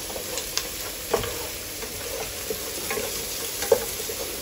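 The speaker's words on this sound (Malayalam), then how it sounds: "കുറച്ച് നല്ലോണം ഇളക്കി കൊടുക്കാം" A spoon stirs dried lemon into a pot of sizzling oil and spices, a steady soft frying hiss with occasional light scrapes and taps of utensil against metal.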